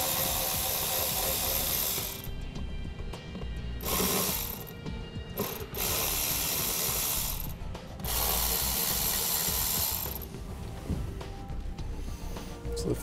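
Ratchet wrench backing out three T25 Torx screws from the dashboard of a 2016 Mercedes-Benz, a steady rapid clicking that runs for most of the span with short pauses between screws, close and fairly loud with no talking.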